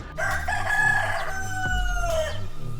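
A rooster crows loudly and close by, one full drawn-out cock-a-doodle-doo.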